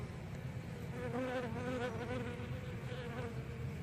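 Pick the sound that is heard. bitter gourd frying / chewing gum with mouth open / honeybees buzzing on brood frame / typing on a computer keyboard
honeybees buzzing on brood frame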